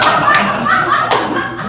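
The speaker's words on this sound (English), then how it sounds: "Why are you clapping and laughing so much?" A few scattered, sharp hand claps ring out amid voices and laughter, irregular and close, mixed under ongoing talk.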